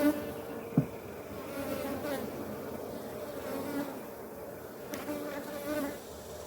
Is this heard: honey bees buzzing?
yes